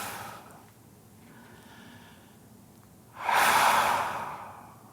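Slow breathing during a yoga class: a soft, drawn-out breath near the start, a quiet pause, then a loud, close exhale that trails off.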